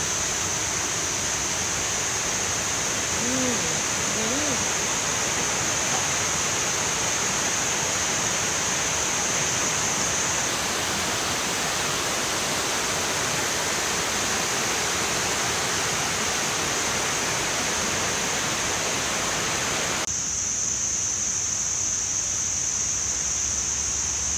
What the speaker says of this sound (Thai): น้ำตกแรงอยู่นะเนี่ย